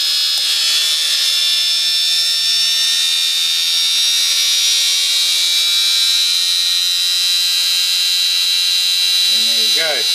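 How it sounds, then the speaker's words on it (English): An electric motor spins up to speed with a loud, steady high-pitched whine that holds almost constant, and a short warbling chirp rises at the very end. "the motor is slowly picking up speed"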